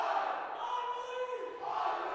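Student section cheering at a Saturday afternoon girls high school basketball game, Muskies against Iowa City High, a steady mid-level roar and chatter of young voices in a gym, continuous and broad with slight swells.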